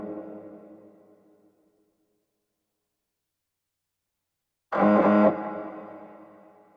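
A music track's reverb rings out in a long, smooth decay after a burst of sound, fading gradually over several seconds following an earlier tail that dies into silence.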